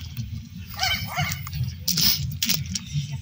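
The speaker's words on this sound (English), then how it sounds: "Very talkative puppy." A puppy at an outdoor car show yips, whimpers and gives short high barks in quick uneven bursts, close by over a low crowd murmur and faint voices.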